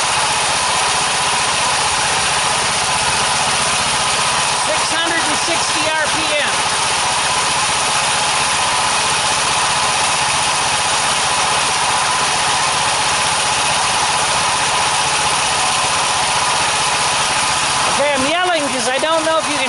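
A DC generator's engine runs loud and close at steady speed, a continuous mechanical drone with a constant hum, briefly joined by a voice near the middle and again at the end.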